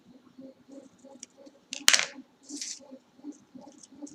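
Scissors cutting and trimming a braided bookmark: a couple of crisp, close snips, one clearly louder than the rest, over quiet, faint background sounds.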